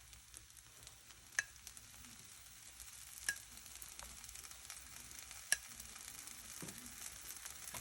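A dosa cooks on a hot pan as oil is poured around its edge, a faint, low sizzle with a few sharp ticks and pops, and no one speaking.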